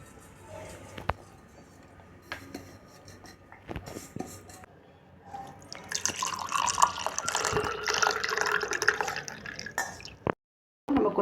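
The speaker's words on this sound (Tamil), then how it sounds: "கொஞ்சம் கொஞ்சமாக பாலை ஊற்றி பிணைஞ்சிக்கலாம்." Cow's milk, boiled and cooled, poured into a bowl of powdered bread for gulab jamun dough: scattered drips and taps, then a steady splashing pour that builds and runs for several seconds before a short gap and a final clink, close up.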